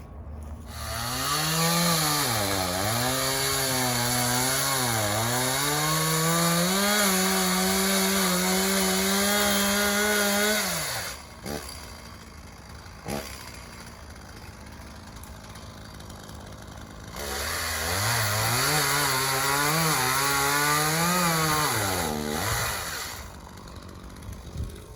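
A chainsaw cuts wood on a farm, its engine rising and falling in pitch through a long first cut. After a short idle break, a second cut follows. It is loud and near, with no talking.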